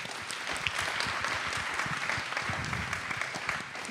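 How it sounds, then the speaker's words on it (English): Audience applause at a CCN 2024 conference panel session, steady dense clapping throughout, moderately loud and close, with no voices over it. "Round of applause for you guys."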